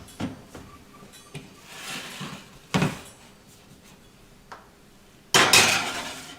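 Sugar cookies going into a home oven, with a few sharp knocks and clatters of the tray and oven door followed by a louder, longer bang near the end, set against a quiet room.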